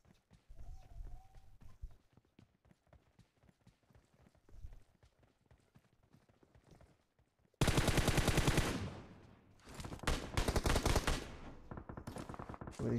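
Gunfire from a mobile battle royale video game: scattered distant single shots and footsteps at first, then loud sustained rapid automatic bursts close by, with brief pauses between volleys.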